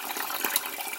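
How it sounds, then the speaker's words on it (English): Cloudy rice-rinsing water splashes as it is poured out of a pot, a brief close pour with a couple of small sloshing surges. "let's dump some of it out, making sure not to dump the rice out."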